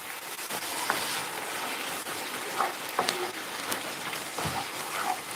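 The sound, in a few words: food sizzling in frying pan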